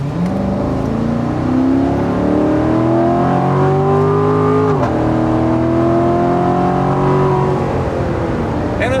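A 2019 Chevrolet Corvette C7 Stingray engine roars loudly as it accelerates at full throttle, pitch climbing through the gears with a quick shift midway, heard from inside.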